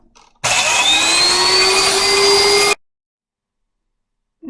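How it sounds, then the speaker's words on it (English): An electric grinder loudly grinds dried herbal medicine into powder for making incense, a steady high-pitched motor whine and rattle lasting about two seconds, then cutting off to silence. "I saved you some of the sound of grinding."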